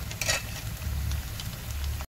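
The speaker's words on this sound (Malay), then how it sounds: "Kita goreng macam biasa je macam kita goreng popiah biasa" Cheeseburger popiah, beef and cheddar cheese rolls, frying in oil over moderate heat, giving a steady close sizzle with brief bubbling crackles and no talking.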